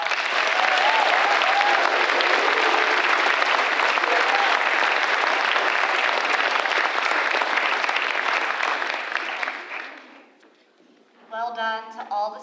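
A large audience applauds strongly and continuously for eighth-grade students at a school culminating ceremony at Friends Academy, then the clapping fades out and a speaker's voice follows.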